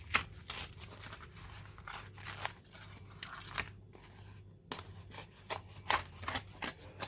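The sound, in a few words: tearing strips of sketch paper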